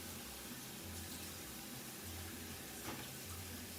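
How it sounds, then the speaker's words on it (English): A kitchen tap runs steadily while a knife is rinsed. The water makes a constant, fairly soft hiss throughout, with no speech. "Let me just wash this knife."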